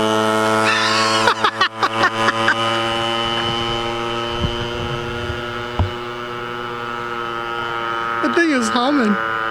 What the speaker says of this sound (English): That thing is humming.